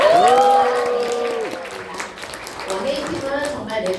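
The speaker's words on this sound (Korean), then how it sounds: "우리 조금 더 감사의 마음을 담아서 환호와 박수를 큰 박수로" A voice speaks at an indoor gathering, then scattered applause from the audience starts up and builds into steady clapping in the second half.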